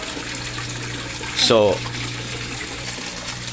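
An Aquaspeed submersible pump in a koi pond keeps a steady rush and gurgle of water running throughout, close and constant, while someone speaks briefly midway over it.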